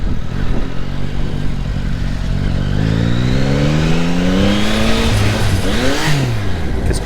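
A Yamaha MT-09 motorcycle rides over cobblestones, its engine note rising and falling through gear changes, close and fairly loud, with some rattling underneath.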